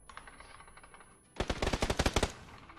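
Rapid machine gun bursts in a video game, a quiet stretch followed by a dense, loud string of close shots firing in quick succession.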